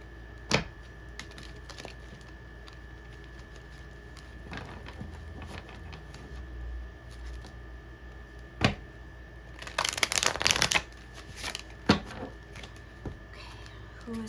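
Tarot and oracle cards being shuffled by hand at close range, with soft riffling and tapping scattered through the stretch and a louder burst of card flutter partway in, over a quiet room.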